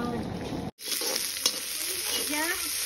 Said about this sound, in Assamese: এতিয়া মছলাটো পুৰা ভাজি আছোঁ আৰু আদা নহৰু জলকীয়া দি মেলি তেল কমকৈ দিছোঁ